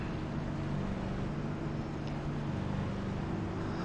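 Race car engines drone steadily in iRacing at Daytona, a dense, constant roar of several cars running together with no pauses, close and loud throughout.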